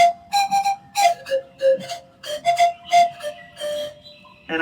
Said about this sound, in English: This one has whistle holes. It's like a whistle. In other words, it's like a flute.